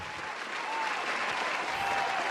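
Steady applause from a group of people, a broad wash of clapping that holds evenly and swells slightly toward the end, with no clear speech over it.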